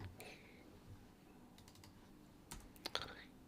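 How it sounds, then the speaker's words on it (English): Quiet keystrokes on a computer keyboard, a few scattered taps early then a short burst of sharper clicks near the end, set against a soft low room hum. "so that's why I was typing"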